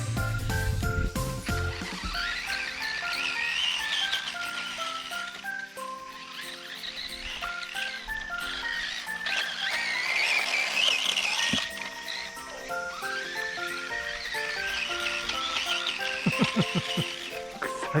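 A Tamiya MF-01X rally RC car runs through overgrown grass, its electric motor whining steadily with scrubbing and skidding tyre noise, all under continuous background music.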